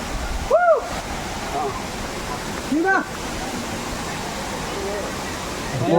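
At Seetharkundu waterfall in Palakkad, falling water makes a constant broadband rush, while voices call out briefly over it in a couple of short bursts.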